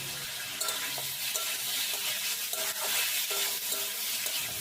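Squash fries in a pan with salt, mustard paste, cumin, green chili and turmeric as it is stirred. A steady close sizzle runs underneath soft repeated scraping strokes, and no one speaks.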